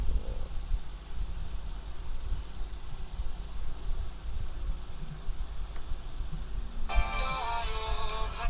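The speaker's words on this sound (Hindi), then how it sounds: "नेटवर्क इशू आ रहा है, मतलब फ़ोन में किसी की कॉल आ रही है" An incoming call's phone ringtone cuts in near the end, a bright, tonal melodic burst over steady low background hum in a room during an online maths class.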